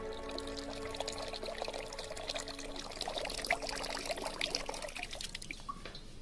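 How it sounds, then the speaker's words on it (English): Water pours steadily into a replica ancient Egyptian clepsydra water clock, a continuous splashing trickle with scattered drips, even in level throughout and moderately quiet. "to try and obtain a uniform inflow of water"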